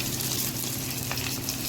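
Rohu fish pieces fry in hot oil with a dense, steady, close-up sizzle and crackle that holds evenly throughout, with no speech.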